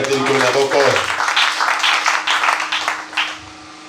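A church congregation claps and cheers in praise, a dense wash of applause that starts over a speaking voice and fades out gradually over a few seconds.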